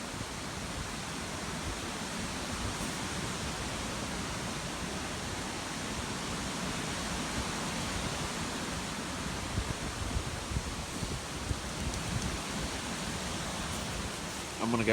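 Wind rises around a hammock camp on a stormy riverbank. A broad, steady rushing noise holds at an even level throughout, with a few louder gusts near the end.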